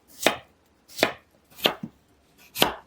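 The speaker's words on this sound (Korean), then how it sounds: "막대 모양으로 길게 썬 다음 깍둑 썰기 하세요." A knife dices potatoes into small cubes on a cutting board after they are cut into 1 cm slices and sticks: four crisp, evenly spaced chops, close and clear, with no voices.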